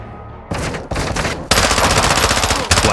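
Loud, close automatic gunfire in Call of Duty: Modern Warfare 2 (2022) cracks out in rapid bursts: two short volleys separated by a brief pause, then a longer sustained stream of rounds.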